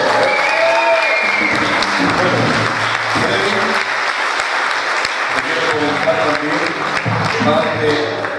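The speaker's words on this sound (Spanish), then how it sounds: "con este aplauso ya lo están diciendo todo." Loud, continuous audience applause at a regional music presentation, with voices and a faint melody mixed underneath the dense clapping.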